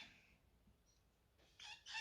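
Birds call in the background outdoors, a fowl-like clucking and crowing heard faintly at a distance, with two louder calls near the end.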